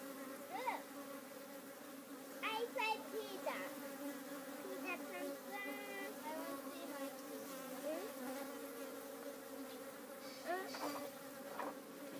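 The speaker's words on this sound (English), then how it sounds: "There's tons of leaf cutter bees coming in here." Many leafcutter bees buzzing and droning close by at a hive entrance, with individual wingbeats rising and fading as insects fly past over a steady hum.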